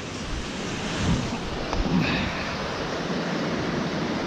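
Whitewater river rapids rush in a steady, full roar of churning water close by, continuous and unbroken throughout.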